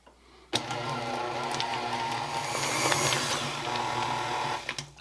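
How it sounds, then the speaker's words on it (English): A stand mixer beats cream cheese until smooth, starting abruptly with a loud mechanical whir and steady rattling hum that holds for several seconds before a few clunks near the end. "we're going to beat this in our stand mixer until the cream cheese is smooth"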